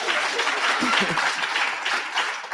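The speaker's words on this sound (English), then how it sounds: "y'all can clap for that" Audience clapping at a 1619 Project panel, a brief burst of applause from the crowd with a speaker's voice briefly over it.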